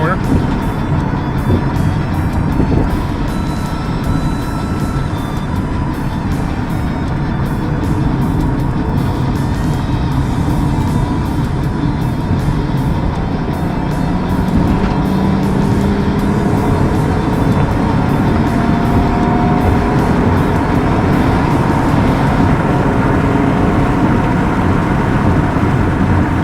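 A car with its transmission fluid replaced by Bud Light drives at speed, its engine and road roar loud and steady throughout with gear shifts and rising pitch, while voices talk over it.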